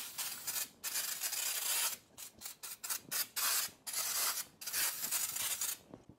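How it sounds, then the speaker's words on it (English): Brake cleaner sprayed onto the rear brake parts of a Cadillac CTS, close and loud, in repeated hissing bursts of varying length separated by short pauses, with no talking. "just go take some brake cleaner and spray it off"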